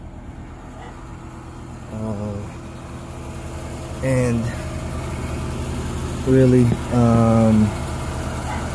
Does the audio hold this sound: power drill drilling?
no